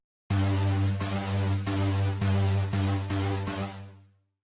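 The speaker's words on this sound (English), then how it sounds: "Let's also add in just a touch of distortion as well with the Ableton Live's built-in saturator" A synth patch lightly crunched by Ableton Live's built-in Saturator sounds a run of about six bright, buzzy chord stabs in a steady rhythm, loud and alone, fading out at the end.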